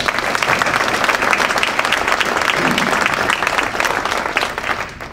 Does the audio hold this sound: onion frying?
no